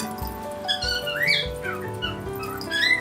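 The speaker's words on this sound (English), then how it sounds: "I know, birds." Birds call outdoors near a home kitchen: bright, close chirps and whistled squawks come in uneven bursts throughout, over a low background hum and faint household noise.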